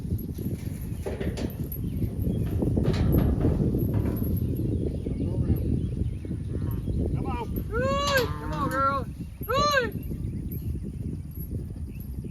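Horses and cows on a rainy homestead come over to be fed, heavy thuds and shuffling over a wet hiss, then several loud, close drawn-out animal calls near the end.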